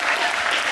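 Applause from the audience at an after-prom hypnotist show in St. John, Kansas, a brief, dense burst of clapping from a crowd.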